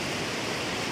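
Air Terjun Mengaya, a waterfall in Takengon, Aceh, pours in a steady, dense roar of rushing water. The sound is loud and continuous with no other sound above it.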